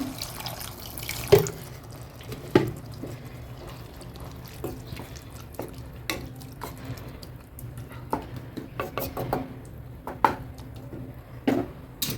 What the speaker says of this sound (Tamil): இன்னும் கொஞ்சம் தண்ணி ஊற்றிக்கிறாங்க.